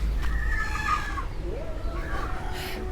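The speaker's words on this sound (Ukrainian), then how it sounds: "просто, просто е, по дорозі зустріли курей" A few chickens cluck and call nearby on a roadside in Bali in short, uneven bursts, with a soft background murmur.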